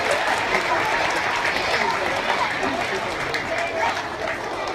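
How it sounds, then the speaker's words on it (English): A children's audience applauds at a school, a dense, steady clapping that fills the room and carries on throughout without pause. "let's give them a round of applause."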